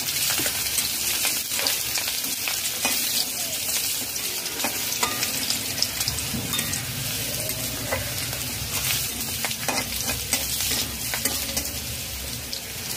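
Chopped garlic and cumin seeds frying in hot oil for a spinach-mushroom dish, a loud continuous sizzle and crackle with occasional spoon scrapes, close up with no talk.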